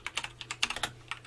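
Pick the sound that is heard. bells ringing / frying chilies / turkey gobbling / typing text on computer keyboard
typing text on computer keyboard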